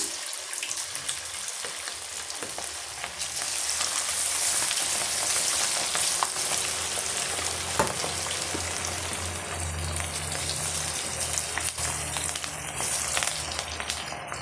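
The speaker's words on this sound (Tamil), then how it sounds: "இப்போ பொரிக்கிறதுக்காக ஆயில் வந்து நான் சூடு பண்ணி வச்சுருக்கேன் பாருங்கள்" Chicken 65 pieces frying in hot oil, a steady crackling sizzle that swells after the pieces go in and stays bubbly and fairly quiet, with no talk.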